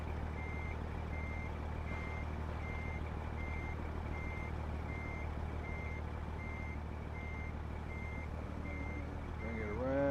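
A truck reversing in a video game, steady evenly spaced reversing beeps over a low engine rumble, with a brief air-brake hiss near the end.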